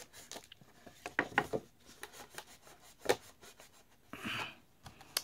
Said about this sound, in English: all I'm doing is just rubbing that down, making sure that the glue is adhering all the way around